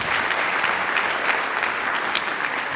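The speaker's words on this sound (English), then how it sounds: "Ladies and gentlemen, big round of applause," An audience at a marine conference opening plenary claps steadily throughout, a dense, even wash of applause heard from within the room.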